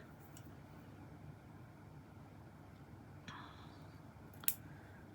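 Scissors snip vintage fabric at a seam junction while quilting. A soft cut is followed by one sharp, quiet snip near the end, over faint room noise with no speech.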